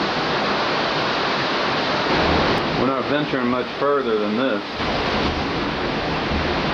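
Constant roaring wind and rain from Hurricane Fran in 1996 sweeps a backyard at Wrightsville Beach, North Carolina, as someone speaks briefly under the steady storm noise.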